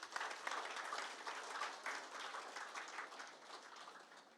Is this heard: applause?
yes